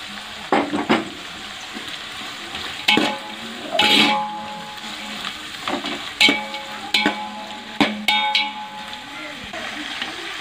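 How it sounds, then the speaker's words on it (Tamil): Chopped tomatoes frying in a pan for a vegetable biryani, a low steady sizzle broken by repeated clanks and scrapes of a spoon stirring against metal, close and fairly loud. "கட் பண்ண தக்காளி போட்டுக்கலாம்."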